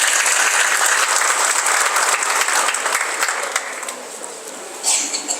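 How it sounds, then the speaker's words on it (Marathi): Loud, dense applause from a large crowd at an outdoor political rally in a Maharashtra village, sustained for several seconds before thinning out slightly, with a brief swell near the end. "एकदा जोरदार टाळ्या वाजवा त्यांच्यासाठी"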